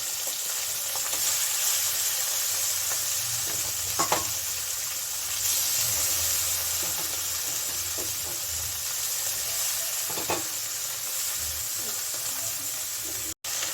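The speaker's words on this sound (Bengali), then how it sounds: "এখন আমি মরলা মাছটা এখানে দিয়ে দিচ্ছি হালকা বাজবে তো" Small mourola fish sizzle steadily in hot oil in a home kitchen, a continuous close hiss with occasional louder crackles and spits throughout.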